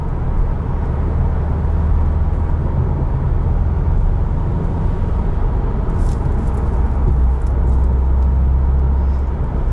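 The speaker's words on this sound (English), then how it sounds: "I could definitely hear the wastegate a bit more on this one too." A 2020 Subaru WRX STI Limited drives with its engine and turbo wastegate audible as a steady, loud, low cabin rumble, with faint brief hissy chirps around the middle.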